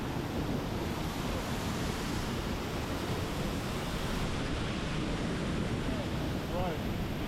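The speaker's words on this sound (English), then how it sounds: "Into the mouth of the waterfall." Sendang Gile Waterfall in Lombok, Indonesia roars as a steady, loud, close rush of falling water that fills the whole stretch without a break.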